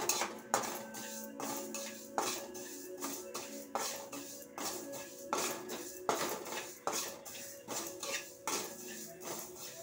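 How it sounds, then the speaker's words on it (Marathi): Spice seeds for Malvani masala roast dry in a pan over a low flame, with a quiet, continuous rattle and scrape as a spoon keeps stirring, marked by frequent light clinks. "या बिया पण बारीक गॅसवरच परतावे लागतात हां"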